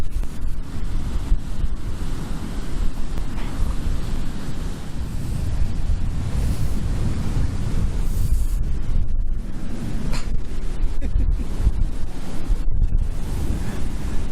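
Autumn high tide surf on a beach with floodgates closed, waves washing and breaking continuously up close, with steady wind buffeting the microphone throughout and no talk.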